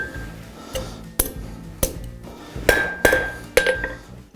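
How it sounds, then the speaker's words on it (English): A blacksmith hammers a hot forged iron hook, sharp metallic strikes ringing out at a slow, irregular pace of about eight blows, each with a short bright ring, close and clear without speech. "Now I'm going to hammer."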